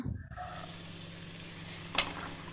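Okra stirred with salt and cumin powder in a hot pan on a gas stove, giving a steady soft sizzle throughout with one brief sharper scrape near the end.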